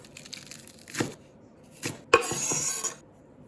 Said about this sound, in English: We slice some lettuce as well.